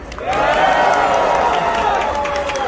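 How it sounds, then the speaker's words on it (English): A crowd at a Diwali celebration claps and cheers loudly for a few seconds, steady applause with scattered whoops filling the room. "Let's give a big round warm of applause for Ingrid."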